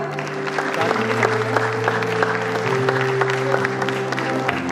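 Steady applause from a seated audience at a school prize distribution ceremony, with many hands clapping in a continuous wash over sustained background music, and individual sharp claps popping through.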